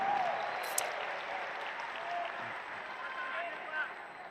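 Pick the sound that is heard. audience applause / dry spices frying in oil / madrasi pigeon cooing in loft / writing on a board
audience applause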